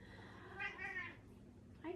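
A house cat lets out a short, plaintive meow, then a second brief one, faint against a low background murmur in a quiet room.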